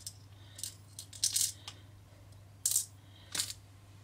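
Small metal fly-tying hooks rattle and clink as a hand rummages through a box, coming in a few short, crisp bursts close by with quiet pauses between them.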